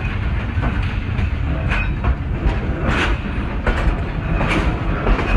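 The Hazara Express passenger train in Pakistan rolls steadily along the rails after leaving Jang Sadar station, a continuous loud rumble with rhythmic clickety-clack wheel beats recurring every second or so.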